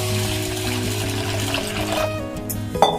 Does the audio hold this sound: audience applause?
no